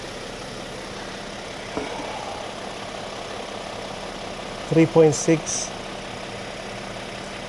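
A Toyota Tundra pickup's engine idles with a low, steady hum in the background while someone talks briefly over it.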